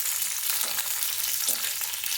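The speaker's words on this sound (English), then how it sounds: "So with this high flame only I will be roasting it." Paneer and capsicum roast over a high flame in a steady, dense sizzle, with faint scrapes of stirring under it.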